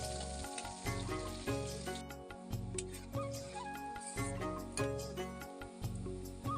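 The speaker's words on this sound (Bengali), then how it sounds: "পেঁয়াজগুলো লাল লাল করে ভাজা হয়ে গেছে" Onions and whole spices (garam masala and cumin) sizzle and crackle steadily in a hot pan, with occasional stirring scrapes and clinks, close and continuous with no talk.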